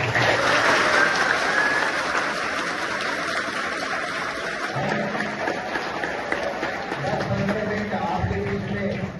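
A crowd claps steadily and enthusiastically at a school puja ceremony, sustained applause filling the room without a break for several seconds.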